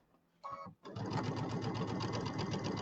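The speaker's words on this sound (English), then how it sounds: "I finally figured out if I just sewed over them 3 times, they wouldn't rip." A sewing machine stitches quilt fabric with Pima cotton thread: a brief burst, a short pause, then a steady, rapid mechanical chatter running close and even to the end.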